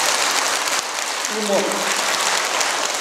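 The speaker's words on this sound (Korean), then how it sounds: "한번 하겠다고 박수 한번 칩시다." An audience claps together during a dharma talk at Jogyesa temple, a dense, steady patter filling the whole stretch, with a brief voice cutting through midway.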